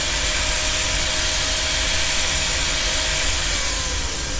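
Wood being sanded on a lathe with a power sander, made from scrap wood during woodturning: a steady, loud abrasive hiss and rush running continuously without a break, close up.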